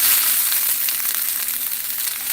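Onions and peppers for fajitas sizzling in a hot pan, a loud, dense hiss with fine crackle that holds steady from start to finish, with no voices.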